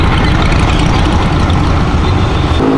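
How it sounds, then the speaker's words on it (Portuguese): An army truck idles on an avenue with a steady, loud, low diesel rumble throughout, and its engine note drops slightly near the end. "o caminhão do exército aí, ó"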